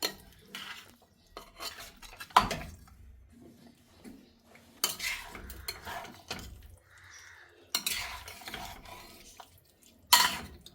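Metal spoon scraping and clinking against a pot while mutton curry is stirred after hot water is poured in, with irregular close knocks and scrapes separated by quiet gaps.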